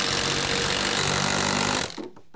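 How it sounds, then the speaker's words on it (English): A power driver sinks a screw into a 2x4 stud while a water-damaged, rotted wall and subfloor are being repaired, making one close, continuous loud whir for about two seconds that then cuts off. "Put a couple screws in the 2x4s."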